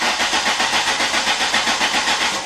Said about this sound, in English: we crank the engine.